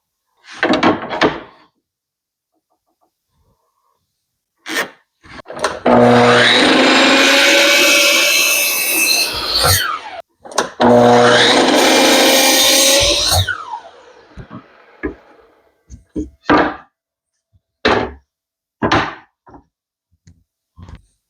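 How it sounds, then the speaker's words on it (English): Two long bursts of loud power sawing through a 1x4 wooden board, each lasting several seconds, bracketed by sharp clunks and knocks of wood being handled and set down. "the first thing we're going to do is cut two pieces of our 1x4 to 40 inches long."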